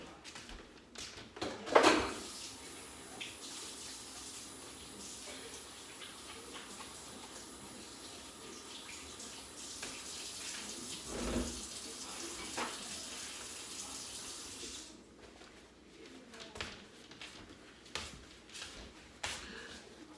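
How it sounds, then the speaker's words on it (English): A kitchen faucet runs in a steady hiss for several seconds while hands are washed under it, with a clatter near the start and a thud midway, then the flow stops. "hold 1 minute while I wash my hands."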